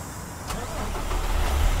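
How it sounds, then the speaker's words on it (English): Truck engine with a Cummins ISX, 600 horsepower, cranking over and catching in American Truck Simulator, a steady mid-pitched rumble building slightly in loudness over a short moment, with no talk. "the truck's running a Cummins ISX"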